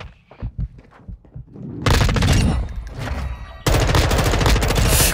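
M4 rifle fire in Call of Duty: Modern Warfare 2 rips out in two loud, rapid automatic bursts, the second longer and sustained, after a quieter opening of scattered thumps and muffled shots.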